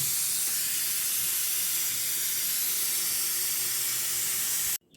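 A pressure cooker holding boiled katla fish lets off a loud, continuous hiss of escaping steam that runs steadily for about five seconds and then cuts off abruptly.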